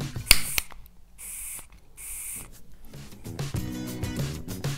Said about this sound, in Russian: Вот мы слышим, газ идет.